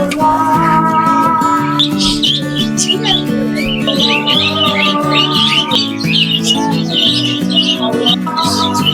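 A flock of budgerigars on a village bird farm chirps and warbles continuously at close range, with overlapping busy tweets and squawky chatter throughout.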